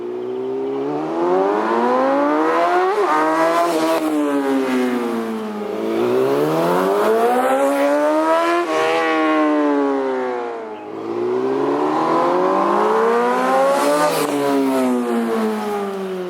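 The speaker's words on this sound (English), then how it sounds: "taking a look at that mini little drag race between the two bikes" Yamaha MT-09 and YZF R6 motorcycles in a short drag race, engines screaming up through the revs in rising sweeps, with gear shifts breaking the climb, loud and close, with no talk.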